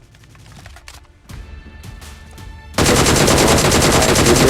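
Gunfire in the video game PUBG Mobile: a few scattered shots and clicks give way to a sudden loud, sustained burst of rapid automatic fire that continues to the end.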